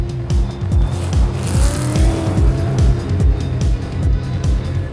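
Rally cars race across desert dunes at the Rallye du Maroc 2018, engines revving hard in a fast repeating rhythm of gear-change surges, with loud, close, continuous roar and tire noise throughout.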